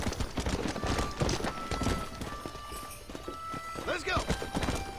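Horse hooves clip-clopping at a fast gait in the video game Red Dead Redemption 2, a busy rhythmic pounding up close, with a brief whinny and someone talking over it.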